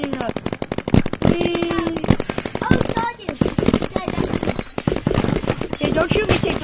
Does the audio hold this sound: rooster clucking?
no